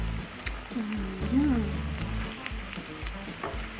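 Thai sour pork ribs deep frying in hot oil, a steady low sizzle and bubbling with a few brief scraping stirs, close and moderately loud throughout.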